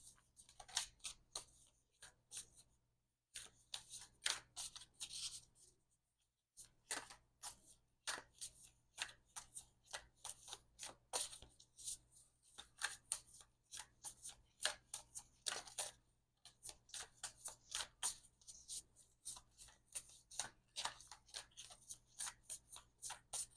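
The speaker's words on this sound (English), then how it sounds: "Sorry for my slow shuffling." Cards being shuffled slowly and repeatedly, crisp riffling bursts with short pauses between, close by and with no talking.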